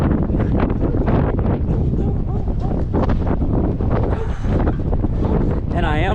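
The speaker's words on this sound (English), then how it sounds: "I am running into the wind, so this can have an effect" Strong 25 mph wind with gusts to 37 mph roars and buffets loudly across the microphone of a runner heading into it, a continuous, heavy rumble with brief breathing or speech sounds near the end.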